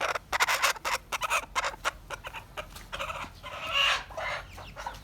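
Chickens and young chicks at a poultry farm cluck repeatedly in quick, overlapping bursts, fairly close and lively, with no talking.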